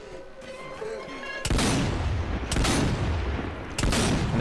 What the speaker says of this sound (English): The shotgun's a perfect weapon for this thing.